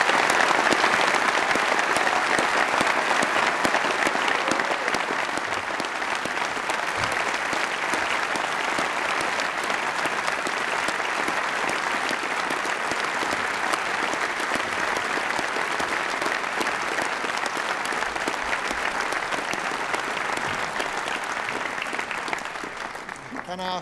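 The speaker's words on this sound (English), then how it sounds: "I'd like all of you to join in a tremendous round of applause for our new graduates" A graduation ceremony audience applauds its new graduates, dense continuous clapping from a large crowd, loud and steady for over twenty seconds before easing at the end.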